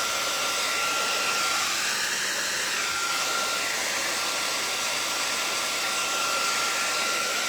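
A blow dryer runs steadily and loudly the whole time, drying craft paint, a constant whooshing roar with no voices.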